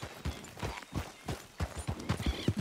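A horse in Red Dead Redemption 2 gallops with quick, steady hoofbeats, close and distinct over a low in-game background.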